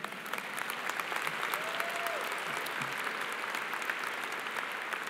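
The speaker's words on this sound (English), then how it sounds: "need a round of applause there" A commencement audience applauds at a Cleveland State University fall ceremony, a dense, steady wash of clapping hands that holds at even strength throughout, with faint voices mixed into the crowd.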